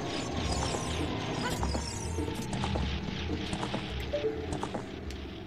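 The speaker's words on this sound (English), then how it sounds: "My low health sound is Epona galloping." Epona's galloping hoofbeats from Zelda: Ocarina of Time, used as a low-health alert, run as a steady rhythmic clatter over dense, continuous game sound at moderate level.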